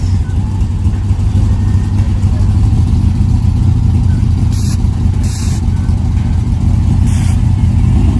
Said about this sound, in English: Yeah, this OG Larry car right here